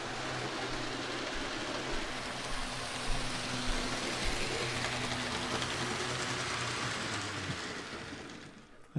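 Model train running along its track with the camera riding on board, giving a steady, close, continuous rumble and rattle of wheels and motor throughout, with no voices.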